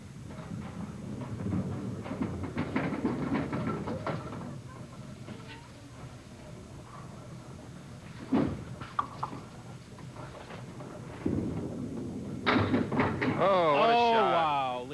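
A candlepin bowling ball rolls down a lane and knocks pins over with a sharp clatter partway through, while the crowd and commentators talk over the action.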